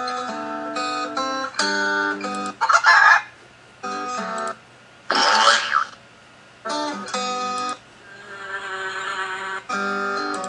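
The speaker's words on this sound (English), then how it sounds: "Oh, roosters, I like roosters." A cartoonish rooster crow blares between bouncy synthesized melody phrases in a kids' interactive elephant song app, with short bursts of sound effects breaking the tune.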